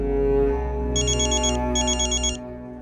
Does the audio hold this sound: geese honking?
no